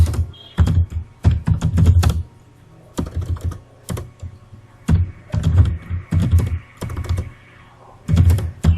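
Rapid bursts of typing on a computer keyboard as a ChatGPT prompt is entered, clustered keystrokes in quick rhythmic runs separated by short pauses, close and clear with no talking.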